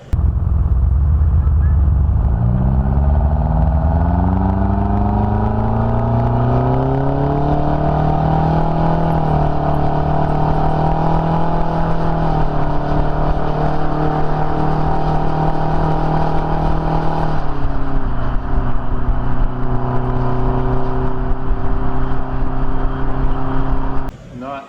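A Detroit Diesel 4-53T two-stroke engine fitted with an end blower runs steadily on a truck, a loud, continuous drone whose pitch rises as it revs up, holds, then drops back toward idle.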